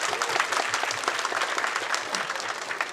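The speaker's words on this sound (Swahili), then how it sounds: "Makofi" Audience members at a graduation ceremony clap in a steady, dense patter of applause that fills the space without pause throughout.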